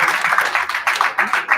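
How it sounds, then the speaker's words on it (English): Applause from a graduation-ceremony audience at a tech startup program event, a short burst of clapping with some crowd noise mixed in, fairly close and moderately loud. "big round of applause for you guys"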